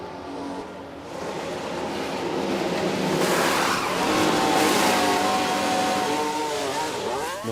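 Formula One racing car engines scream during a Bahrain race in a modded F1 Manager 2013 video game. A steady roar builds in loudness, and whining engine pitches sweep upward near the end, with a hint of tire squeal.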